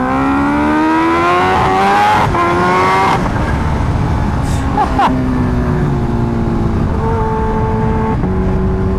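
A Kawasaki H2R supercharged motorcycle running on race fuel, engine loud and close as it revs hard through the low gears with rising pitch, quick gear shifts and heavy wind rush throughout.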